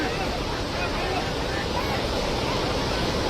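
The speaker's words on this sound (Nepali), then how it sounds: "खोला कत्रो आएर है" A swollen, flooding river in a Nepal village roars with a continuous, loud, broadband rush of water that stays unbroken from start to finish.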